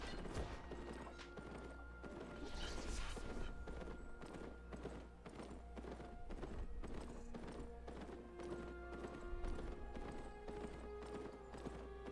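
Mount's hooves in the online fantasy game Albion Online, a quick, regular clip-clop of steady trotting with an occasional whinny over a constant low game hum, no talking.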